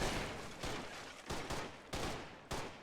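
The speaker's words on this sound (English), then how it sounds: "Oh, there goes an SMG." SMG fire in the online war game Foxhole comes as several short automatic bursts in quick succession, loud and sharp with brief gaps between them and no talk over them.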